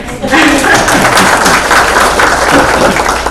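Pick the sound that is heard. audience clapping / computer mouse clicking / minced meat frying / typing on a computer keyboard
audience clapping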